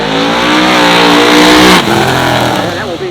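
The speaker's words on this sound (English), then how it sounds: "J. Biondo, his final attempt, his final try for glory here today in the 67 Chevy 2 from McHenry, Illinois." A 1967 Chevy II superstock drag car roars off the line at a dragway, its loud, close engine revving hard in a sustained blast that drops off abruptly as the car pulls away.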